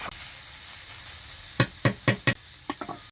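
Ginger hits a hot pan of oil for a village-style dal tadka, giving a steady sizzle followed by a handful of sharp clattering stirs near the end, with no voices.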